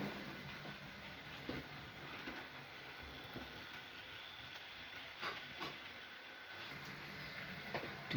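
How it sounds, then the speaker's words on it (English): A small Ruston locomotive on a model railway hauls a long train, giving a steady hiss and rumble with faint rhythmic clicks from the wheels passing over rail joints. "It's just so funny to see something that small pulling a big train."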